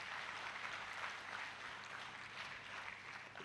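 Audience applause at a talk, a steady dense wash of clapping that stays fairly even and moderately loud throughout with no voices on top.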